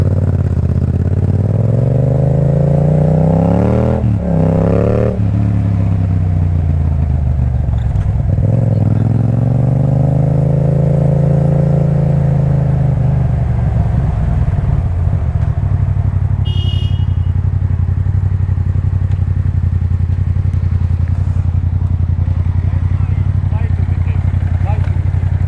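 A Yamaha MT-07 motorcycle with an Akrapovic titanium exhaust rides off, its engine loud and close, rising and falling in pitch through several revs and gear changes before settling into a steady drone.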